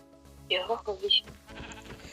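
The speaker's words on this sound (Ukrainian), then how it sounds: "Я бачу вівцю." A few short sheep bleats in Minecraft, loud and close, layered over a faint background tone.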